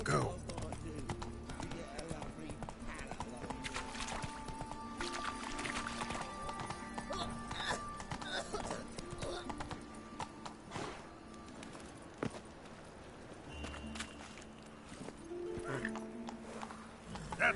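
The horse Roach galloping in The Witcher 3, with steady rapid hoof clip-clop running throughout over game ambience and music, with a brief whinny and talk over it.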